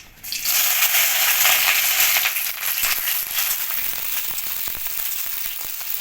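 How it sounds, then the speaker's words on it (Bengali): Chopped capsicum frying in a pan with dried red chillies, garam masala, cumin and bay leaf for a kabuli chana curry, a loud steady sizzle that starts abruptly and continues with light crackling. "ক্যাপসিকামটা একটু ভেজে নেব।"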